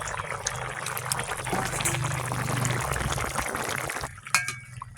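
Snakehead fish pieces go into a pot of boiled local bananas, a steady wet bubbling and splashing that fades out near the end, followed by a brief clink.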